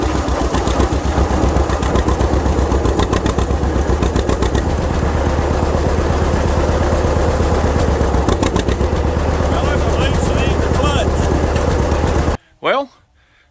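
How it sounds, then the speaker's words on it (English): A 1952 John Deere AH Hi Crop tractor drives along with a loud, steady chugging engine and rapid rhythmic firing pulses, then cuts off abruptly, leaving a brief knock and near silence. "let's take this thing for a drive"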